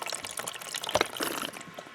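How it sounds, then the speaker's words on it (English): Water from a squeezed bottle sprayed to rinse a soapy bicycle freewheel: a close, irregular splashing and dripping spatter lasting about two seconds, with no talk. "Rinse using my water bottle"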